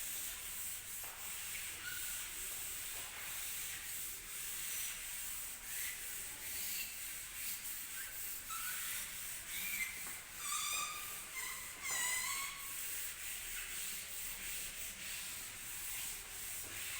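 A classroom board is rubbed clean with steady, soft scraping strokes that continue throughout, faint and close, with no speech.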